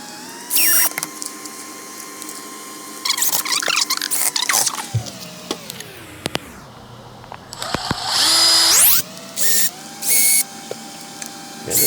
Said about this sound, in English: I'm remixing this drill sound right now. Yeah. Just playing with the speed.